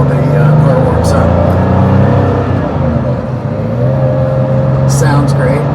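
A 1996 Porsche 911 Carrera engine hums steadily at low revs while cold, a smooth continuous drone with a slight shift in pitch partway through as it goes into first while rolling.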